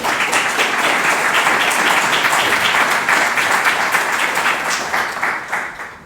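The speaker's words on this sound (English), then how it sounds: "So thank you again, Luca, and some applause." Steady, full applause from a conference audience after a presentation on data standards, sustained evenly for several seconds before tapering off at the end.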